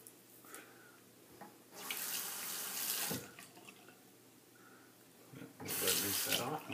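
Tap water runs in bursts into a sink while a shaving brush is rinsed, comparing a silvertip badger knot and a synthetic knot; louder splashy runs start and stop with quieter gaps between.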